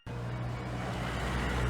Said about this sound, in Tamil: இங்கே ஒரே டிராஃபிக்காக இருக்குது.